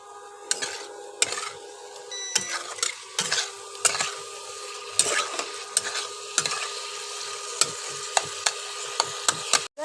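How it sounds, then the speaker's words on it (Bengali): Boiled potatoes being sautéed with spices for a Bengali vegetarian dhokar dalna curry, a spatula scraping and clacking against the pan in a steady, repeated rhythm over a continuous sizzle. "আলু সেদ্ধ করে রেখেছিলাম বন্ধুরা, এর মধ্যে দিয়ে একসাথে এবার কষাবো"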